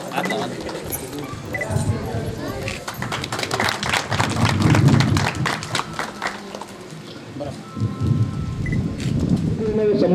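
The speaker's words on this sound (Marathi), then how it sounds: "जोरदार टाळ्या वाजवायच्या आहेत" Applause from an audience at a village panchayat honouring ceremony during a birthday celebration, dense rapid clapping that swells and fades over several seconds with voices mixed in.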